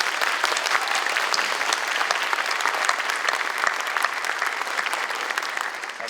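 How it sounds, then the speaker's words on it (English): Audience at a scholarship ceremony applauds the graduating class, a steady, dense wall of clapping that stays loud and even throughout with no voices over it. "Let's give a big round of applause to the graduating class of"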